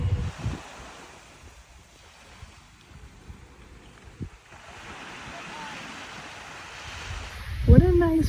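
Ocean waves wash onto a beach on Koh Lanta, Thailand, as a steady breaking surf roar mixed with gusty wind buffeting the microphone, swelling louder near the end.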